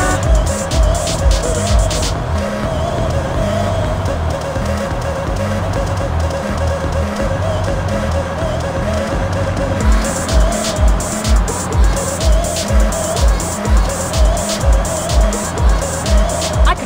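A car driving in GTA San Andreas, a loud steady engine drone with tire squeal and rhythmic road thumps later on, and faint voices over the top.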